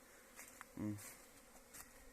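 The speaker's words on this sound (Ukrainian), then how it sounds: "бджоли літають, гудуть" Honeybees buzz faintly in flight near an apiary in February, one passing closer with a brief louder drone before fading back into soft outdoor background.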